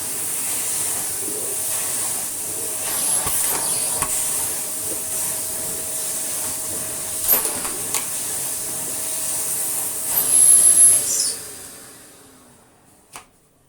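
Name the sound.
Victor V9 commercial dry tub vacuum running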